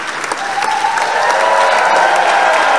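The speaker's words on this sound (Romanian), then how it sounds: "Vă rog, aplauze!" Loud, dense crowd applause at the CSM Oradea club presentation, swelling slightly and staying strong, with a faint tonal cheer or whistle riding over the clapping.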